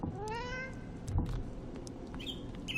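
A cat meows in the game Hack 'n' Slash, a clear rising cry with bright harmonics at the start, followed by short clicks and small electronic game sounds over a faint background.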